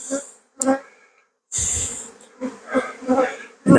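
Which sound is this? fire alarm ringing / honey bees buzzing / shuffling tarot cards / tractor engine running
honey bees buzzing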